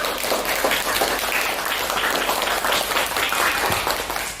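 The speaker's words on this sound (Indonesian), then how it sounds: "Beri tepuk bergemuruh dulu buat kalian." A class of students gives a burst of steady, dense clapping in a classroom, loud and continuous for a few seconds with a faint murmur of voices underneath.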